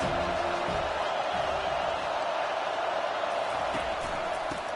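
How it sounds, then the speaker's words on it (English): A stadium crowd at a football game roars in a dense, continuous wash of cheering and shouting, loud and sustained throughout with no pauses. "Challenge this crowd to bring the energy, and I'd say they're doing that."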